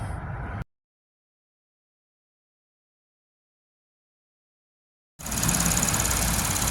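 A car engine idling after K-Seal coolant leak repair was poured in: a steady low engine hum heard briefly, then a gap of silence, then the idle returns louder and close with a hissing, whirring top.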